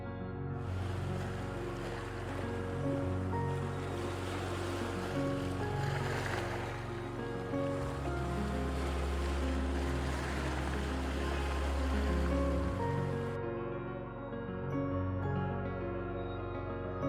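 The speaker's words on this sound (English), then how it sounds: "powerful waves continuously crash against the stone arches, producing distinctive echoing sounds" Powerful waves crash against the limestone stone arches of the Grotto on the Great Lakes. The surf sounds as a continuous, echoing roar of water under a layer of steady tonal background music.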